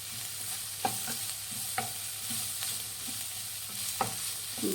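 A spoon stirs turmeric into an aloo bonda filling in a pan: quiet, scraping strokes at intervals of about a second, over a soft, steady sizzle with no talk.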